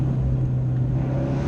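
An Abarth 124 Spider fitted with a Monza exhaust system idles with a steady, deep burbling drone, close and continuous, with no voices over it.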